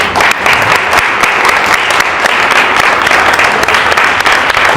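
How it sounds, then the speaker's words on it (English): A loud, sustained round of applause from an audience fills the room with dense, even clapping from start to finish. "Let's give a round of applause."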